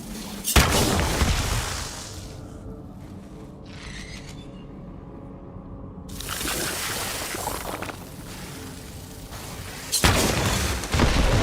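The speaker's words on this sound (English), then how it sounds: "Explosion echoed through the forest" Explosions from the video game Borderlands 3 burst out in loud, broadband blasts, one near the start, another swelling around the middle and a third near the end, with rumbling debris and a quieter lull between them.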